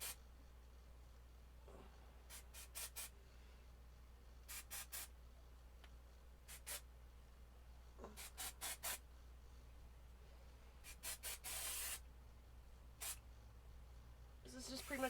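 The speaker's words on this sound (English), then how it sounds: "this is just pretty much like some dry shampoo" Dry shampoo is sprayed into hair in short hissing bursts, grouped in clusters of two to four puffs with pauses between them, close by and fairly quiet over a low steady hum.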